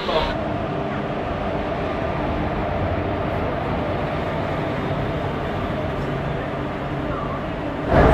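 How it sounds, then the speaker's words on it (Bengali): Sri Jagannath Express pulling into platform 1 at Santragachi station in the evening, a steady loud rumble of train and station noise throughout with a louder swell near the end. "সাঁতরাগাছিতে 1 নম্বর প্ল্যাটফর্মে আমাদের ট্রেন শ্রী জগন্নাথ এক্সপ্রেস চলে এসেছে।"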